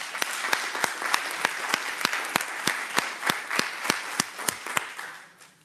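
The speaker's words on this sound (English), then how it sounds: "She needs a round of applause." A small group at a school board meeting applauds an honored career and technical education teacher, with sparse, distinct claps mixed into lighter clapping that thins and fades out by the end.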